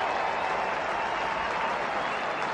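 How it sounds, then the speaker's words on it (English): Steady, dense applause from a football stadium crowd during a 1994 Premier League match between Norwich and Southampton, a Norwich player being substituted off; a continuous wash of clapping fills the whole stretch at even loudness. "Warm applause for the exiting Megson."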